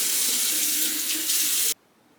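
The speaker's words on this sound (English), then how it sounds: "Now I'm going to just rinse my face with a little bit of water." A bathroom tap runs steadily at close range while water rinses a face, a loud continuous hiss that cuts off abruptly near the end, leaving quiet.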